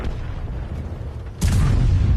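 A tank cannon fires in World of Tanks: after a low, steady battle rumble, one sudden loud, sharp blast hits, then a heavy sustained roar and echo that stays loud to the end. No talking.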